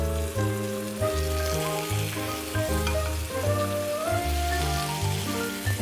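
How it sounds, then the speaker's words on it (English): A halibut fillet sizzles on a hot, oiled grill pan, giving a steady crackling fry that stays even and fairly close throughout, with no talking, under a background of sustained tones. "Then I'm gonna transfer the halibut to the grill pan."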